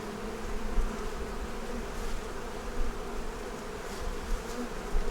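Honeybees drone steadily in a five-frame hive that has lost its blue-marked queen, a dense continuous buzz close by and fairly even in level, with no voices.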